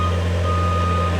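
A 2019 JLG 460SJ telescopic boom lift with jib, 4x4, driving in high range at high throttle, giving a steady loud engine drone with a continuous tonal beeping or whine over it, close by and brief.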